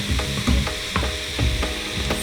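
Onions, bell peppers and celery sizzle in an Instant Pot while being stirred, a steady close frying hiss broken by repeated scraping strokes of a utensil against the pot.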